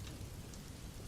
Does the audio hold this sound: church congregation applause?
no